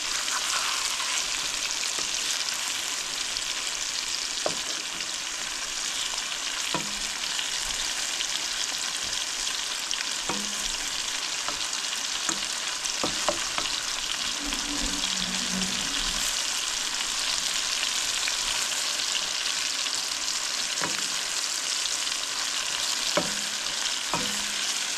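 Mushrooms fry in butter in a pan with a steady, close sizzle throughout, broken by occasional clinks and scrapes of stirring.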